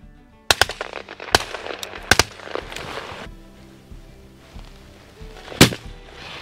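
Shotgun blasts ring out while hunting pigeons at a feeding site: several sharp, loud cracks, some in quick pairs, then a pause and one more shot, with no talk over them.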